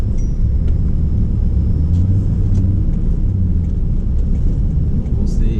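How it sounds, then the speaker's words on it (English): Engine of a high-mileage Toyota Tundra pickup labouring up a highway on-ramp hill, a steady loud low rumble with road noise throughout, with a brief spoken remark over it. "Let's see if we can get a decent pull here getting on the highway."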